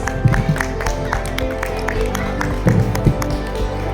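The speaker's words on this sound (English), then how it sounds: "Give a big round of applause." An audience claps at a school annual prize distribution, a steady wash of applause with scattered taps and a low background hum, sustained for several seconds.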